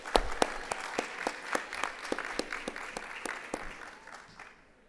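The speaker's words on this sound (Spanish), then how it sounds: "Por favor, un fuerte aplauso." Sparse applause from a small audience at a public panel on transparency and accountability, with distinct individual claps in an uneven rhythm, fairly faint, tapering off to quiet at the end.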